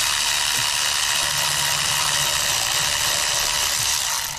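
Milwaukee power ratchet spinning during a starter replacement on a 7.3 IDI diesel, one sustained close whirring buzz that runs steadily and cuts off at the end.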